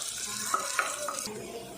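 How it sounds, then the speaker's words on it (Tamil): Chopped onion sautéing in oil in a pressure cooker, giving a steady close sizzle and hiss with a few soft clinks of a stirring spoon. "வெங்காயத்தை கண்ணாடி பண்ண அளவுக்கு நம்ம வதக்கி விட்டுருவோம்"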